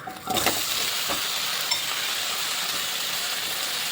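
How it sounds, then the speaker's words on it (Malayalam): Pineapple pieces roast in hot ghee in a pan, a steady close sizzle and crackle running throughout with a light clink near the start. "ഇനി ഈ നെയ്യിലേക്ക് നമ്മളെടുത്ത് വെച്ചിട്ടുള്ള പൈനാപ്പിൾ ഇട്ട് നമുക്ക് ജസ്റ്റ് ഒന്ന് റോസ്റ്റ് ചെയ്തെടുക്കാം കേട്ടോ"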